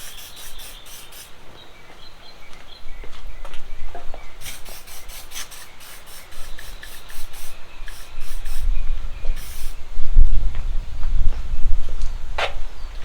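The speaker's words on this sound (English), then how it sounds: "I'm just going to spray some WD-40 on this." Short bursts of WD-40 aerosol spraying hiss in quick succession onto the carburetors of a 1982 Honda CB650, with rubbing and handling noises in between.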